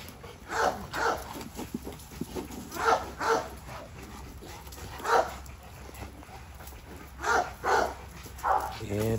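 Dog barking in the background outdoors, a series of repeated barks and yelps in irregular bursts, moderately distant, recurring throughout.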